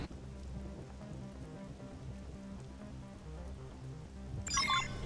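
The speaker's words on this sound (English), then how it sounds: "Even a thunderstorm or whatever's going on seems a little silly for a cat to just be out and about in." Steady rain pours through a thunderstorm in the video game Xenoblade Chronicles X, a continuous hiss with low rumbling, ending in a sudden bright burst of sound.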